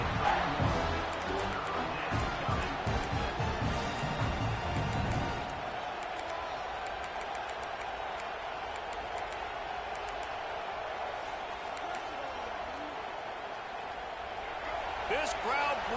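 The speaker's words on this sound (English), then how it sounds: "This crowd bringing the energy and noise early." Dense stadium crowd noise at a Tigers college football game, a loud broadband roar with rising cheers and thumps in the first few seconds that then settles into a steady, sustained din, with a commentator talking over it.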